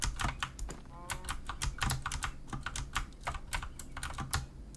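A computer keyboard clatters with rapid, uneven keystrokes during a Minecraft game, sharp close clicks in quick bursts with no talking.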